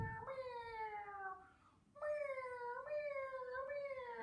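Singers in a group vocal warm-up imitate a kitten's meow with two sliding, wavering high-pitched meow sounds that are clear and moderately quiet, with no talking.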